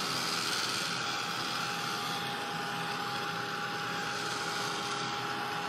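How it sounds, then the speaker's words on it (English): Continuous loud whirring blast of a heat tool drying a Gelli plate print background, steady and close throughout with a faint high whine. "Just keep your heat tool moving."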